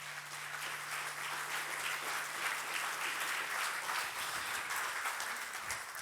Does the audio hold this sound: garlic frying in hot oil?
no